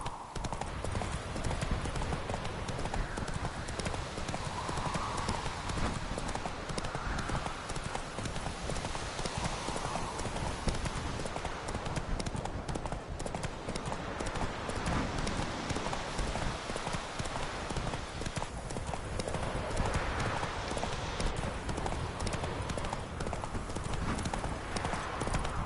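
Roach, the horse from The Witcher 3, gallops steadily with a rapid, continuous clip-clop of hooves throughout, close and loud over an ambient game soundscape.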